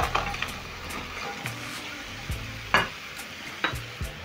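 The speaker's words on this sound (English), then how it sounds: "When the tomatoes are ready, I'm going to add back my fries." Fries are stirred back into tomato sauce in a frying pan for chips masala, with a soft background sizzle and a few sharp scrapes and clinks of the spoon against the pan at irregular intervals.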